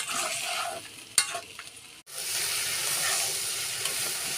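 Food frying in a pan with a steady sizzling hiss, broken by a sharp clack and a brief near-silent gap before the sizzle resumes, close and moderately loud.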